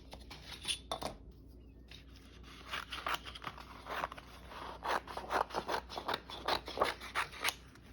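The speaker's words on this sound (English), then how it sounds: "Trim out our Polaroid." Scissors snip and trim a faux Polaroid photo in a craft setting, a run of quick close cuts that come in bursts with brief pauses and grow denser toward the end.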